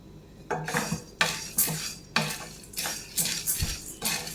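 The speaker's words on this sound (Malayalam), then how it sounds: "നമുക്ക് ഈ കടലപ്പരിപ്പ് ഇതിലേക്കിട്ട് ഡ്രൈ റോസ്റ്റ് ചെയ്തെടുക്കാം." Chana dal dry roasting in a hot cheenachatti, its grains rattling and scraping against the metal as a spoon stirs them in repeated bursts, close and fairly loud.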